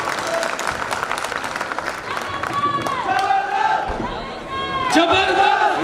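An audience at a Modicare recognition program seminar in Jaipur applauds the team, loud sustained clapping with crowd cheering while a speaker's amplified voice talks over it.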